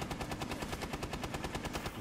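Rapid automatic gunfire in the Rainbow Six Siege video game rattles at a van as a steady, loud stream of evenly spaced shots lasting about two seconds, with no talk over it.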